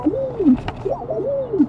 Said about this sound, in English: Have you got a pigeon in the car with you?